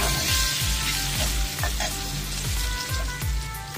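Potato pieces frying in hot oil in a pan, a steady loud sizzle with regular low scraping strokes of the utensil throughout.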